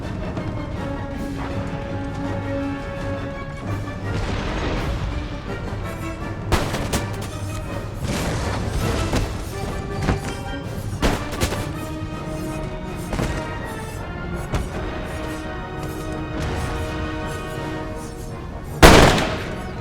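Artillery fire and musket volleys boom across a battlefield in the video game Empire Total War, scattered heavy cracks and rolling blasts over a steady battle din, with one loud close impact near the end.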